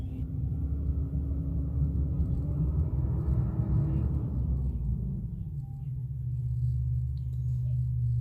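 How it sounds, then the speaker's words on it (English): A loud garbage truck at 7:13 in the morning produces a continuous low engine rumble that dips briefly, then settles into a steady deep drone. "Very loud garbage truck."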